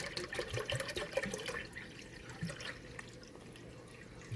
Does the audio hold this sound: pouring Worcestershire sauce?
yes